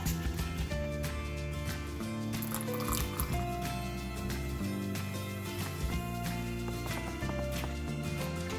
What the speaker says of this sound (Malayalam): ഇനി ഇതിലേക്ക് നമ്മുടെ സോഡ ഒഴിച്ചു കൊടുക്കാം.